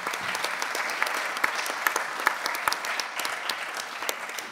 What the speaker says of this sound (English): A big round of applause, please, to all organization and speakers in the room.